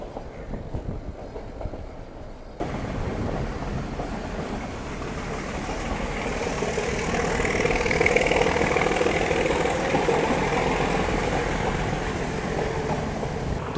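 Steam locomotive of the Nilgiri Mountain Railway toy train between Coonoor and Ooty, pushing from the rear as a banker, gives a steady broad rumble and hiss of a moving train that swells slightly midway, with no talk.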